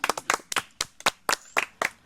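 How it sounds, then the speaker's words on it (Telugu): Hands clap in a quick, uneven series of loud, close claps at an Ugadi festival food challenge, some doubled, with no voices over them. "క్లాప్స్."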